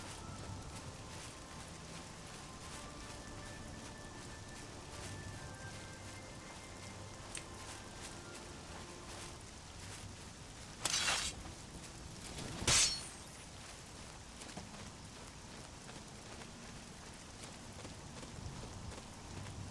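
Steady rain falls throughout in the video game Oblivion, a soft, even hiss heard faintly and alone, broken by two short louder bursts partway through.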